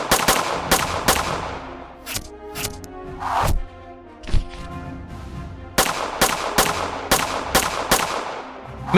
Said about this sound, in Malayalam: അവർ 3 പേരും ഒളിച്ചിരുന്ന് മെഹുലിന് നേരെ വെടിവെക്കുവാനും തുടങ്ങുന്നു. മെഹുലും തിരിച്ചു വെടിവെക്കുന്നു.